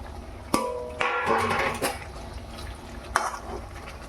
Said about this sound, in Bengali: মাছগুলো এখন ঢেলে দিলাম